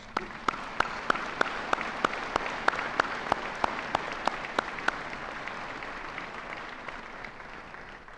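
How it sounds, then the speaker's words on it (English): Audience applause at a Lake Area Tech graduation ceremony in 2018: a steady wash of clapping from a large crowd with several sharper, closer claps standing out in a regular pattern early on, fading slightly toward the end. "Please join me in giving them a round of applause."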